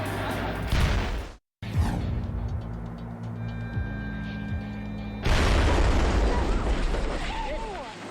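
Explosives detonate aboard a vessel being scuttled, a deep booming blast rolling out with low rumble, a brief gap, then a second heavy burst and sustained roar that tails off into rumbling debris and wash.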